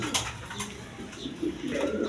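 Sky-blue Rajgolla pigeons kept in a loft with egg-laying pairs give low, murmuring coos in short bursts, moderately close, with no one speaking.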